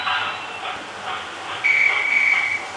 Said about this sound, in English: That's the guard's whistle.